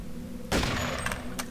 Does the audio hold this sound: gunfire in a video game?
yes